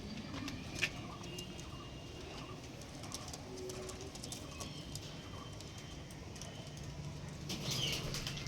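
Pigeons being handled while a male and a female are shown, with a few sharp bursts of wing flapping over steady soft cooing and background bird noise. A louder flurry of flapping comes near the end.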